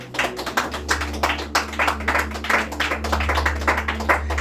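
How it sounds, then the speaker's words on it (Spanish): Congregation clapping during a Spanish-language church service, a steady run of quick, overlapping handclaps with a low sustained hum beneath, moderately loud throughout. "Dale un fuerte aplauso al Señor."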